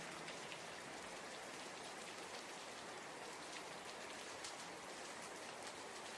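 Steady, dense rain falls continuously as a soft, even hiss, with no voices or other sounds over it.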